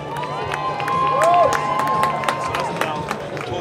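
UCLA fans in the stands at an NCAA baseball Super Regional game in Los Angeles roar and cheer, a broad sustained crowd wash with scattered claps and shouts and a rising whistle-like cry near the start.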